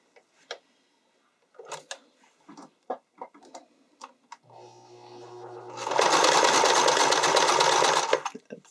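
A sewing machine runs a wide, medium-length zigzag stitch on elastic for an underwire bodysuit, starting softly and swelling into a loud, steady whir for about two seconds, after scattered clicks and taps of handling.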